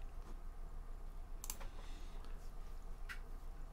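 A few faint mouse clicks at a computer while working in easing curve settings, quiet isolated ticks over a low steady hum.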